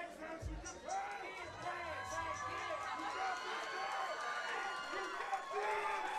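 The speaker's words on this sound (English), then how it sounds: "This crowd has come alive absolutely. for this one." Crowd roaring and cheering at a live MMA fight event, a dense wash of distant shouts and whoops with quick footsteps and a thump near the start, while commentators talk over it.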